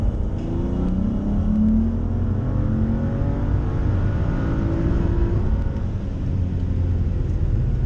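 A BMW F30 with the N55 engine and an upgraded 3.5 bar map sensor pulls hard at full throttle from low revs, its engine note climbing steadily and loudly from inside the car.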